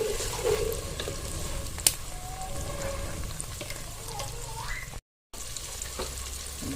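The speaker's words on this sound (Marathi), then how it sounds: "हे सर्व तेलामध्ये परतून घ्यायचंय जेणेकरून हे टॉमॅटो कांदा आणि मिरच्या चांगल्या प्रकारे शिजतील" Tomatoes, onions and chillies sauté in hot oil for a fish dish, giving a steady close sizzle and crackle with occasional stirring scrapes. A brief sharp clack lands early on, and there is a short dropout near the end.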